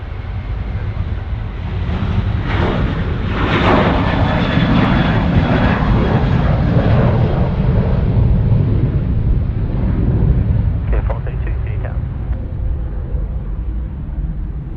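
An Airbus A380 departing Sydney Airport, its jet engines a loud sustained roar that swells and slowly fades over about fifteen seconds, with wind buffeting on the microphone.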